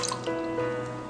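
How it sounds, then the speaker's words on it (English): Milk poured into an Instant Pot for pink pal payasam, a steady soft liquid stream with a faint dripping, splashing texture, heard alone and close in a kitchen. "So I am going to add 2 cups of milk in instant pot"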